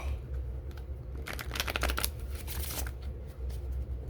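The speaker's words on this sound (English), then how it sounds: "So let's shuffle them out." Prompt cards for a reading game being shuffled by hand close to the microphone, a quick riffling burst in the middle with softer card handling before and after.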